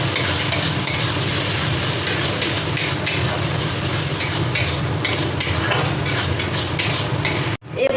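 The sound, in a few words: stirring Kashmiri chili masala with a little water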